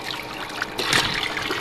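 Water splashes and sprays at an outdoor pool party, a steady wash of churning and spattering that swells briefly near the middle, fairly close and without voices.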